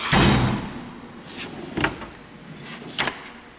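Screwdriver drawer of a Snap-on toolwagon toolbox sliding open or shut, a loud metallic rolling rush at the start followed by quieter rattles and two sharper clunks as it settles.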